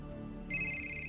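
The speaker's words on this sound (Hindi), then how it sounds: "देखिए फोन बजा।" A phone ringtone starts midway, a steady electronic trill over low background murmur, fairly close and clear.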